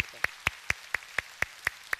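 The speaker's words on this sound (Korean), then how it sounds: "우리 하나님께 영광의 박수 올리겠습니다." A church congregation claps in unison after a Sunday morning prayer, giving about eight sharp, evenly spaced claps at a brisk steady beat with little else around them.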